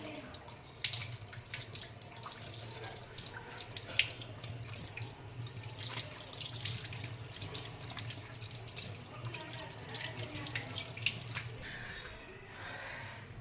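Goat tripe washed under a running kitchen tap, with steady splashing water and wet squishing and dripping close by, moderately quiet throughout.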